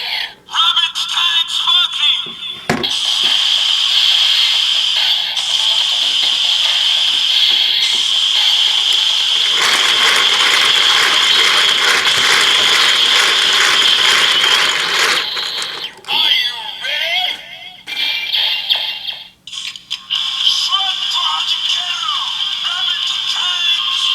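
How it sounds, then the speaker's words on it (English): A Kamen Rider Build DX driver toy has its crank turned, giving loud, rapid ratcheting clicks in bursts over about 24 seconds, with electronic sound effects layered on top and brief pauses between turns. "Then we'll slide into the driver and turn the crank."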